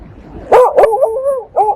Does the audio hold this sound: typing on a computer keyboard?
no